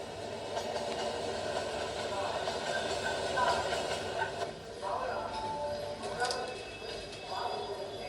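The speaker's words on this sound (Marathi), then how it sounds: "ही ट्रेन आतां येता." A train pulling into Madgaon railway station, heard as a steady, loud rumble and rattle of rolling wagons, with people talking over it on the platform.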